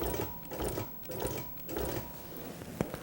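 A longarm quilting machine sews basting stitches one at a time, producing a few separate mechanical whirring bursts with a clicking rhythm, close and fairly quiet.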